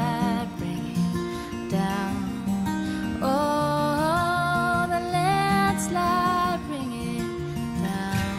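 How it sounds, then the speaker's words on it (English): Cover of Fleetwood Mac's Landslide performed by a duo, with a sung melody over steady acoustic guitar strumming and picking, full and continuous with a little faint background noise. "but you could hear the singing and the guitars very, very well too"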